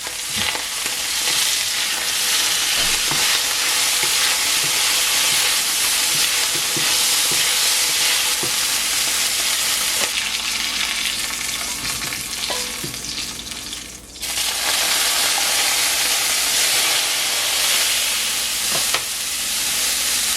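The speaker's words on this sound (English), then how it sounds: "I like to pan fry the beef in batches so it's not crowded." Beef pan-frying in batches over high heat for Filipino beef salpicao, a loud, continuous sizzle with small crackles and occasional stirring, dipping briefly before resuming.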